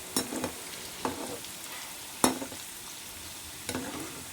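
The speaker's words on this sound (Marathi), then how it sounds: "हे आता परतून घ्यायचे गोल्डन कलरवर भाजायचे आपल्याला" Medu vada fry in hot oil with a soft steady sizzle, broken by a few sharp scraping stirs or spatters spaced about a second apart, fairly close and quiet.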